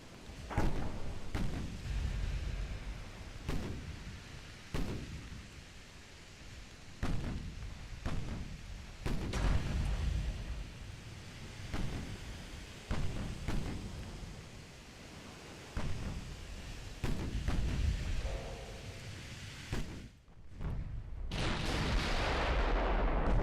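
Naval gunfire from warships in the strategy game Ultimate Admiral Dreadnoughts, with heavy booming salvos repeating every second or two, strong low rumble and a steady bed of battle noise throughout.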